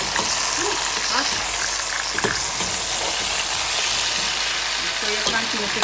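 Curry chicken with carrots and bell peppers sizzles and crackles in a hot pot over an open flame, with steady frying hiss and the occasional scrape of a spoon stirring, close and continuous.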